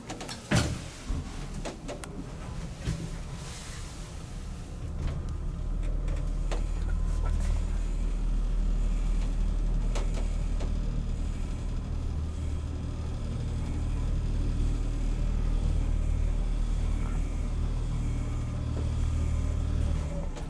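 Vintage Montgomery traction elevator in an arts building in Vancouver, running during a ride: a steady low mechanical rumble and hum throughout, with a few sharp knocks and rattles near the start as the car gets under way.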